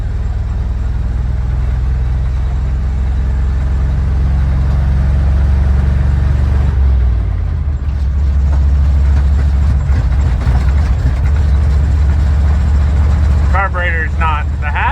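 An International Harvester Loadstar crew-cab truck, parked for 30 years and running on an unhappy carburetor, drones with a loud, steady low engine rumble while driving, shifting in pitch midway as it picks up speed.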